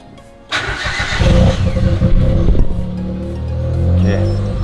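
A car engine cranks and starts after its steering wheel hub has been swapped, then settles into a steady, loud idle close by with some faint rises in revs. A low voice speaks briefly near the end.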